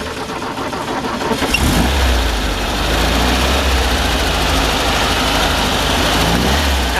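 A 1963 Porsche 356B 1600 Super Coupe's engine cranks and catches around the two-second mark, then settles into a steady, loud idle that runs on to the end.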